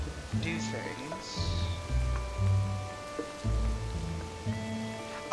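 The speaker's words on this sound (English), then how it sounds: "Oh, and it's raining." Rain falls in the open world of Zelda: Tears of the Kingdom, a soft, steady patter under game music and tones.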